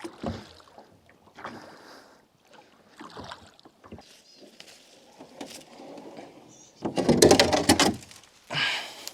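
Bursts of splashing and knocking against a hull, with gear thumping around a small boat on water, growing loudest near the end.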